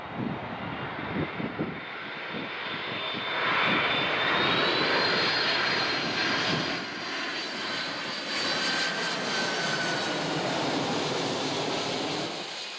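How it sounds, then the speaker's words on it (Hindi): Engines of a Lockheed C-5 Galaxy military transport aircraft roar steadily, a loud broad jet rumble with a rising whining tone that swells and holds, close and continuous with no voices. "आखिरकार फिर लॉकहीड ने C5 गैलेक्सी तैयार किया और अपनी पहली यात्रा के साथ इसका दुनिया में स्वागत किया।"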